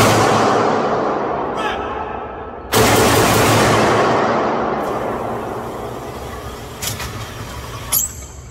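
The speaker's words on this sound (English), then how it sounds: "I'm gonna shoot 2 to the body, 2 to the head" A Ruger PC Charger PDW fires several sharp, loud reports at uneven intervals outdoors, the biggest blast followed by a long ringing decay, with quieter cracks before and after.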